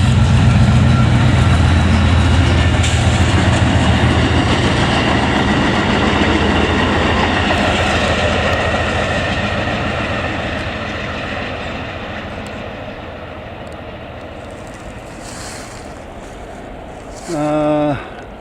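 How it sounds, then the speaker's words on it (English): A train rolls past with a loud, steady rumble and rattling wheels that gradually fades as it moves away, ending with a brief knock. "here goes the train, guys."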